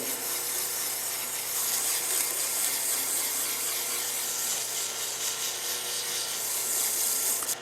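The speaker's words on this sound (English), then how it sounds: "I've sanded it down to where it's almost where I want it to be now, and I'm ready to use the higher grit sandpaper" A wooden slimline pen is sanded on a lathe, producing a continuous, fairly loud abrasive rubbing hiss over the low drone of the spinning machine, steady for several seconds without any voice.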